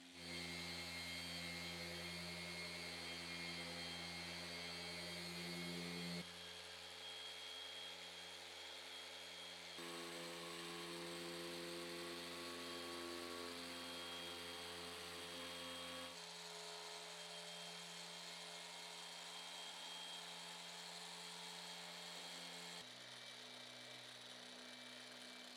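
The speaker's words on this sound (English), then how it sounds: "The PXE80 from Flex is the perfect machine for smaller and difficult parts." A Flex PXE80 compact polisher works on a Ferrari 488 GTB during detailing, giving off a steady high-pitched motor whine. The pitch shifts at a few points as the speed or attachment changes, and there is no talk.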